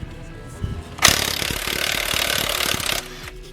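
A burst of a power tool, taken for an impact wrench on a coilover's nut side, rattles loudly for about two seconds after a few light clanks, then cuts off.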